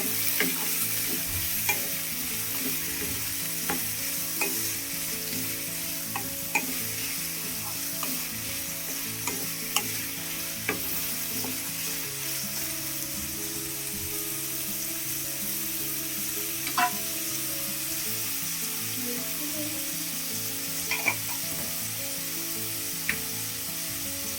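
Vermicelli upma with tomato being mixed in a pan, giving a continuous soft sizzle with frequent light ticks and scrapes of the spoon over about twenty seconds, close and moderately quiet.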